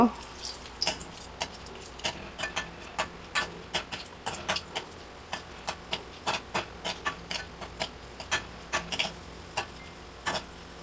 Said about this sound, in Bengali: এটাকে আমি তেলের মধ্যে ছেড়ে দিচ্ছি দিয়ে এটাকে নেড়ে চেড়ে লাল করে ভেজে নেব